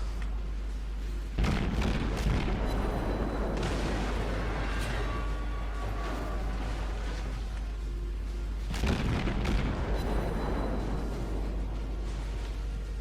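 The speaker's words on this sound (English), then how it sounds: "His secondary batteries are messing me up." Naval gunfire and explosions in World of Warships from an enemy ship's secondary batteries, deep heavy booms over a constant low rumble, with two strong blasts standing out amid ongoing thudding impacts.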